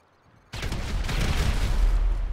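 Rapid gunfire erupts in GTA V, a sudden loud sustained barrage of shots after a quiet moment.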